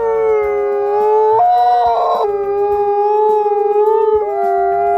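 A couple of wolves howl together in long, sustained, gliding tones that rise and shift in pitch, loud and close, with the voices overlapping steadily for several seconds and no talking.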